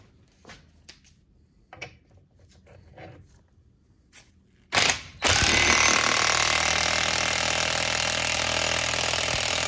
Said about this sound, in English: My impact driver from Harbor Freight is not exactly the strongest